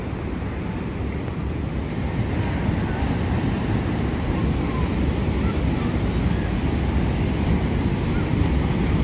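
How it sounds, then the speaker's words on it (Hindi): Water in the Upper Ganga Canal at Bulandshahr, flowing toward a mill, makes a steady, broad rushing hiss that stays even and close throughout, with no pauses. "ये सामने आपका चक्की चलने के लिए पानी जा रहा है।"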